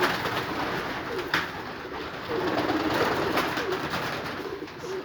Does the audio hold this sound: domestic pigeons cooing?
yes